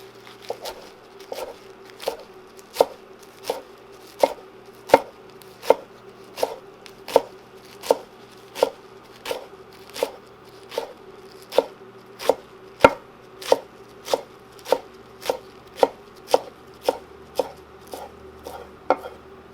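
Kale gathered into a bunch is chopped with a knife on a board: steady, evenly spaced close chops, roughly one every three-quarters of a second, with no talking.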